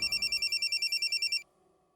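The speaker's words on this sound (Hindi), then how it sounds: "मनोहर को फोन लगा।" A telephone rings with a rapid, trilling electronic bell pulsing for about a second and a half, then stops abruptly.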